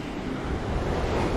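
Ocean surf washes onto a Puerto Rico beach in a brief, loud, steady roar mixed with wind buffeting the microphone.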